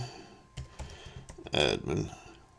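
Someone types on a computer keyboard while logging into Nettemp software on a Raspberry Pi, a short burst of soft, close key clicks mixed with a voice talking.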